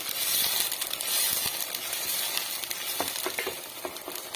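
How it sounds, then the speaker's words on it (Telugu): Sago batter stirred into boiling water in a wide pan for sabudana halwa gives a dense, continuous bubbling hiss up close, with light tapping and scraping of the spoon toward the end. "వేసేసి దాన్ని కొంచెం కలుపుకోవాలి, ఉండ కట్టకుండా కలుపుకోవాలండి"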